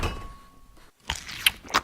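A toy fridge door closes with a short plastic clack after a quiet pause, followed by a couple of small knocks and rattles nearby.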